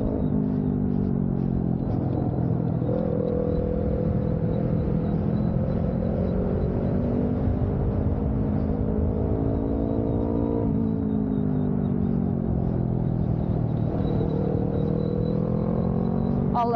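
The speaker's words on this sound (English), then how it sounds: "This doesn't sound like the same motorcycle." A motorcycle engine drones nearby on the road during a ride on an electric unicycle. Its steady rumbling tone rises and falls in pitch as it shifts gears, under continuous wind and road noise.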